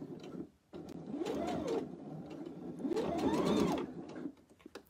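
Sewing machine running while stitching a baby bib, two sustained whirring runs that rise and fall in speed with a brief stop between, close and steady, no talk.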